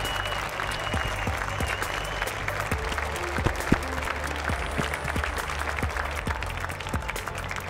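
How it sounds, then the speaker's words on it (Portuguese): An audience at a startup event gives a panel sustained applause, dense hand clapping filling the room at steady loudness with no talk over it. "Eu gostaria de uma salva de palmas para essa mesa incrível."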